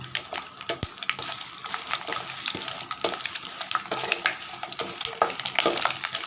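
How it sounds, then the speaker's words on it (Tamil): Dried red chilies frying in oil for Nellore puliyodhara, a crackling sizzle with frequent sharp pops and stirring clatter, close and fairly loud throughout. "சும்மா ரெண்டு காய மிளகா போட்டு"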